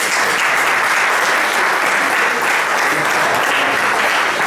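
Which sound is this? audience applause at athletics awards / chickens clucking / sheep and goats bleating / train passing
audience applause at athletics awards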